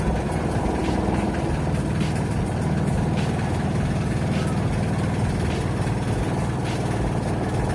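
A neglected manual Mitsubishi Adventure with a diesel engine idles just after starting, giving a steady, close, low rumbling clatter that stays even throughout, with no voices over it.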